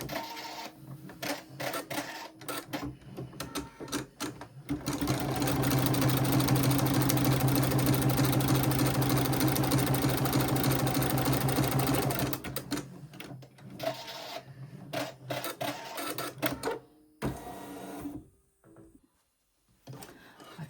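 A sewing machine stitches quilt fabric in place for a crazy quilt, its steady rapid whirring loud and close for several seconds, framed by shorter stop-start runs and handling clatter.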